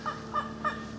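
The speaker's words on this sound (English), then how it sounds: "Yep, got some baby turkeys." Three short, evenly spaced peeping calls from baby wild turkeys in hot summer woods, faint and close together with nothing else around them.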